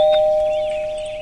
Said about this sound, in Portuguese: Aperta aqui a campainha pra mim.